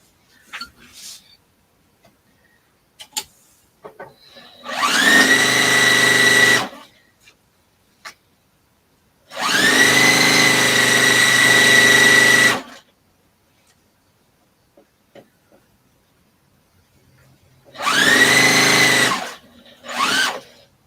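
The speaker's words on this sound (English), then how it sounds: "So I'm going to start sewing it about there." A sewing machine stitching a large fabric briefcase for project bags, running in three sustained whirring bursts of a few seconds each, loud and close, with short quiet gaps between them and handling clicks.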